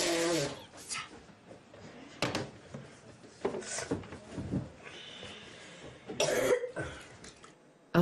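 A child with a persistent cough coughs several times, harsh and spaced apart, mixed with other small household noises in a quiet room.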